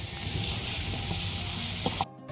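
Hadga (hummingbird tree) flowers are stir-fried in a pan for an egg bhaji, giving a steady, loud sizzle and hiss with a few faint stirring knocks that cuts off abruptly near the end.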